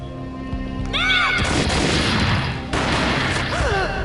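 Gunfire booms twice in the PlayStation 2 game Max Payne, sharp blasts with a crashing tail, mixed with game effects and brief tonal sounds.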